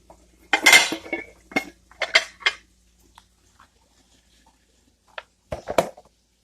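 A bowl taken out and handled, with a cluster of loud clattering knocks and clinks of dishware up close, then quiet and a few more sharp taps near the end.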